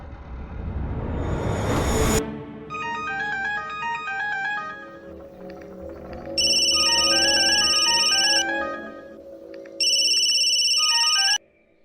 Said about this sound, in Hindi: ये वरुण भी फोन नहीं उठा रहा है।